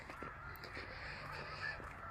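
A flock of geese calls outdoors during an evening walk, with repeated short, moderately distant honks over a quiet background.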